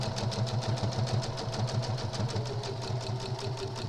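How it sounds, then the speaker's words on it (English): A sewing machine chain stitching crazy quilt blocks runs at a steady fast pace with an even, rapid pulsing rhythm, close and continuous from start to finish with no talking. "I can go from one to the next and just chain stitch it. Just keeps chain stitching."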